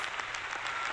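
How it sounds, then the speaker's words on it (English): A live-stream audience claps and applauds in a steady, dense wash of hand claps lasting about a second, with no voices over it. "All the people are clapping for you, Fitz."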